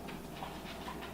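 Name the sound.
dog panting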